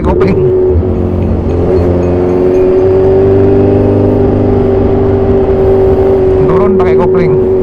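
Modified 2014 Kawasaki Z1000 Sugomi engine droning steadily up close while downshifting with the clutch on a warm day in Surabaya, with a sharp blip near the end and a rider talking over it.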